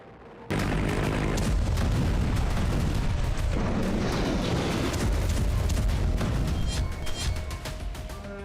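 Artillery and weapons fire at a military firing range during the Bharat Shakti exercise with Indian-made arms, heard as a continuous loud roar of booms and blasts that begins abruptly and persists throughout without speech.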